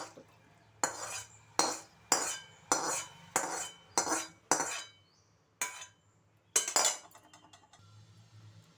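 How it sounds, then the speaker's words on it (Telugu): A ladle stirs mashed tomato into yogurt for a tomato yogurt chutney, striking the bowl in a steady run of sharp, bright clinks about every half second, then a few scattered taps and softer scraping. "నేను ఈ గరిటెతో కలుపుతున్నాను"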